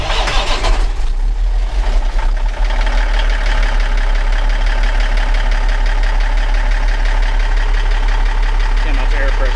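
A big grapple machine's engine cranks over, catches and settles into a loud, steady idle that runs throughout, with a brief burst of activity at the start and a constant low rumble.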